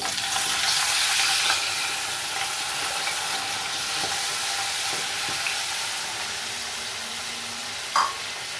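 Mustard oil frying in a pan for an Odia bean curry, a broad continuous sizzle that is loudest at the start and then settles, with a few faint clinks and one brief clatter near the end, no talking.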